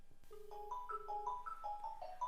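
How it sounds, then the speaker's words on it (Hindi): A quick series of electronic keypad beeps from a Panasonic 3711 cordless phone, each a short clear tone at a different pitch, dialed one after another over a faint background hum. "उसके बाद नंबर डायल करते हैं।"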